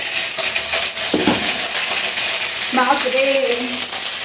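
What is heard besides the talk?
potatoes and carrots crackling as they fry in hot oil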